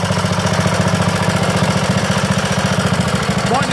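A 1934 BSA B34 250cc single-cylinder motorcycle engine runs steadily at idle, with a loud, close, even thumping pulse throughout and no talk over it.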